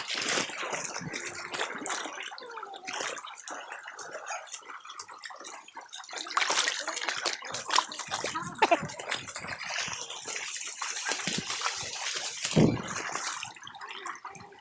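Water rushes and splashes at Burong Falls, an uneven, bubbling gush with sharp spatters and trickles close by, rising and falling in intensity, while people's voices come through now and then.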